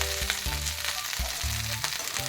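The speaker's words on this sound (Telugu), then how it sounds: "ఇప్పుడు ఇందులో మనం ఇందాక ఫ్రై చేసి పెట్టుకున్నాం కదా గోబీ మొత్తాన్ని ఇందులో వేసేసుకుందాం" Fried cauliflower pieces for gobi 65 sizzle in a hot pan with curry leaves, a dense, close crackle broken by a few stirring knocks and scrapes, with no voices.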